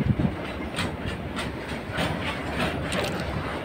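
A new petrol tanker train, headed to Mundra Port to load fuel, rolls steadily along the rails with a continuous rumble and a faint rhythmic clatter of wheels, heard from close by with no talking.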